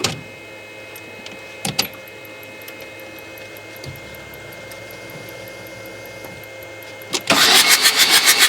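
An engine is cranked with a long whirring starter run, briefly stalling and whining, then catches and fires into loud, pulsing running revs near the end; faint voices are barely present.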